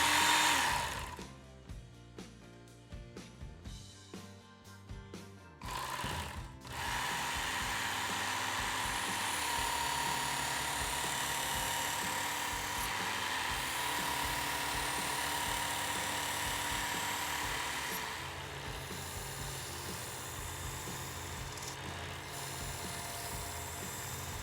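A Work Sharp knife sharpener runs with a steady high whir as a knife is sharpened on it, preceded by a few sharp clicks and short bursts before the motor settles into a continuous drone.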